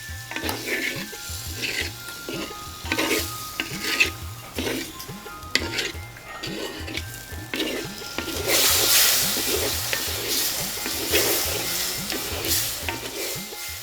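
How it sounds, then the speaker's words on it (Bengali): Medium-sized shrimp fry in hot oil with salt and turmeric, a constant sizzle under repeated rhythmic scrapes and stirs of a utensil against the pan, swelling into a louder burst of frying near the end. "গরম তেলে লবণ আর হলুদ দিয়ে ইচা মাছ মানে চিংড়ি মাছটা ভেজে নিচ্ছেন"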